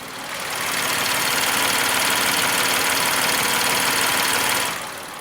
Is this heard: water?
no